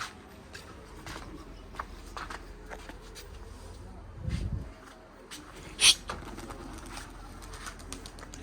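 Pet pigeons kept for flying coo softly and faintly in a quiet setting, with a brief low rumble midway and a sharp short noise shortly after.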